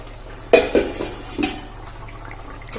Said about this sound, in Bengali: আমি এবার খুলে দেখে নেব ডালটা সেদ্ধ হয়েছে কিনা